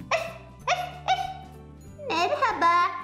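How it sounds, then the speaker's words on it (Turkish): A Baby Born toy puppy gives three short, high yips in a row. A longer whimpering, yelping bark follows, all close and clear against a quiet background. "Bak, Lulu da küçük yavru bir köpek."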